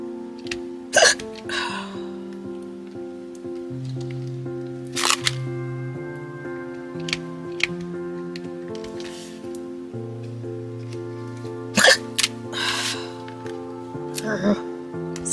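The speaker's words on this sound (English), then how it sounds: "Oh, got hiccups." A woman hiccups repeatedly, sharp little bursts spaced a few seconds apart, over soft background music and speech.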